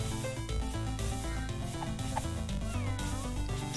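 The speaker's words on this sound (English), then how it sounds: "Sushi Cat for some heals." Sushi Cat from the video game Epic Battle Fantasy 5 gives a few short meows over loud, busy game music with rhythmic beats.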